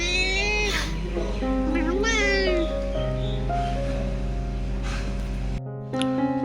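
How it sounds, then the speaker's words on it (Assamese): A cat meows several times in rising and falling calls over a steady background hum, close to the listener, and a short pause breaks the hum near the end. "চাওকচোন মেকুৰীটোৱে কি বুলি মাত দিব।"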